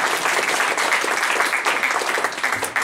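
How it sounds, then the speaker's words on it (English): Sustained audience applause fills a humanist group gathering, dense and steady across the whole stretch, close and loud with no talk over it. "can you please give a round of applause for Vic for organizing this event?"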